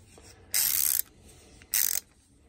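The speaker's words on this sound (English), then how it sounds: "now, it's a ratchet screwdriver" Ratchet screwdriver from an Aldi Workzone 105-piece bit set, two close, loud bursts of rapid clicking ratchet ticks about a second apart, alone with no talk.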